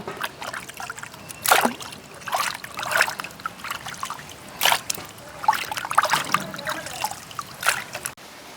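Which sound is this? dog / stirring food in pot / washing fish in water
washing fish in water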